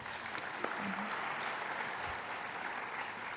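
Audience applause for Chef Tamir at a food-industry conference session, a steady wash of clapping that fills the whole moment with no voice on top.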